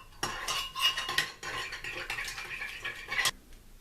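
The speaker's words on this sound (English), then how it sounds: "And we're going to whisk that in until it's" Whisk clattering and scraping in a pan as cornstarch is stirred into beef-broth gravy, quick, close metallic strokes in uneven bursts, with no talking.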